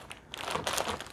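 Plastic parts bag from a Mould King 16019 Botanical Garden building set crinkling, soft irregular rustles and crackles handled close by, faint and brief with no talk.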